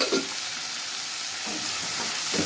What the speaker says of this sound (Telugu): చిక్కుడుకాయ ముక్కలు ఉల్లిపాయలు కూడా నూనెలో మగ్గిపోతాయి